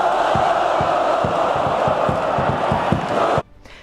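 Dinamo Kiev football fans chant in unison as a loud crowd with rhythmic clapping or beats, then the sound cuts off abruptly near the end.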